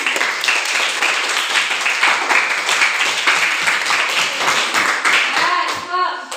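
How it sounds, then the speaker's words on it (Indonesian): A school class claps together steadily for several seconds, lively and close, with a few voices rising over the applause near the end. "terima kasih, tepuk tangan dong"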